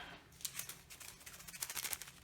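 Quick, crisp snips of scissors cutting a corner off a thin seasoning packet, a few sharp clicks close by with light crinkling, no talking.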